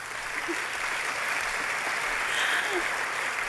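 An audience at an honorary degree ceremony applauds steadily, with a dense, even wash of clapping that swells slightly near the end.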